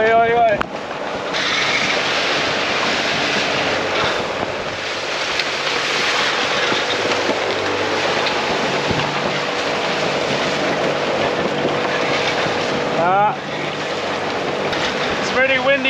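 A small sailboat's motor runs steadily beneath loud, constant wind roar and water wash in strong gusty weather, with a voice speaking over the noise.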